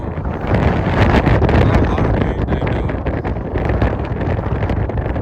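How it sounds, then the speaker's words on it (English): Strong wind buffets the microphone on an open cattle pasture, a loud continuous roar and rumble with gusty swells and no break throughout. "I'm going to see if I can, block the wind out a little bit, but I got a lot of wind"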